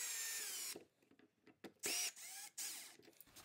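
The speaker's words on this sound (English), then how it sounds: "As I'm screwing this in, I have slight gaps either side so it has some movement to make it level" A power drill driving screws into a light dimmer switch during installation, loud whirring bursts that start and stop several times, close by, with short gaps between runs.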